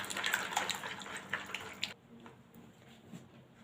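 Egg, milk, oil and butter are whisked together in a bowl for açma dough, giving a soft, wet sloshing and clinking for about two seconds before the stirring stops and the sound drops to near silence.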